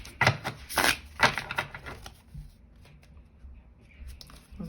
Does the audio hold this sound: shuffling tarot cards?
yes